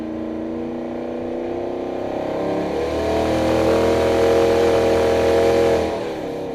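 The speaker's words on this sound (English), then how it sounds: "That was only half throttle and it got up to 90 miles an hour pretty easily there" A truck engine, downshifted into third gear, accelerates at half throttle, its steady drone climbing in pitch and swelling louder for a few seconds before easing off, close and continuous with no talk.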